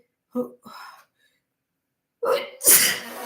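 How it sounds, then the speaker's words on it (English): A single loud, sharp sneeze from allergies close to the mic, split into two quick bursts. Short breathy vocal sounds come just before it, then a brief silence. "Oh my gosh, I'm sneezing."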